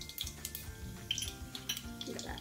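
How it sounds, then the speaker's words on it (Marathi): Mustard and cumin seeds crackle and pop in hot oil, with brief clatters of a metal pan and spoon. "जिरे मोहरी छान तडतडलेत."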